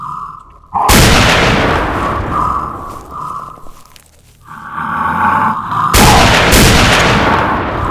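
Semi-auto gunfire in the Zone video game, with two loud, booming single shots a few seconds apart, each followed by a long rumbling roar and a steady whine.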